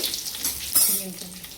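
Mustard seeds and curry leaves sizzle in hot oil, a steady bright crackle with a louder burst of spitting midway, close and alone with no talk.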